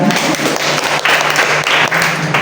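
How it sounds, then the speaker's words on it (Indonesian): Applause from an audience at a parenting seminar on autism therapy in Surabaya, a short, dense burst of clapping that stays steady and fairly loud for a couple of seconds, with a low hum underneath. "Tepuk tangan dulu ACA."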